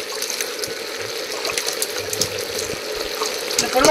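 Spring water being poured to fill a pot, a continuous close splashing and trickling stream with no talking.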